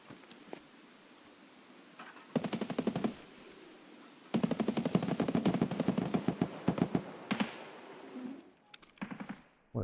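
Escape from Tarkov gunfire as a full magazine is dumped into a dead body: rapid automatic bursts in several long strings, loud and close, with short pauses between volleys.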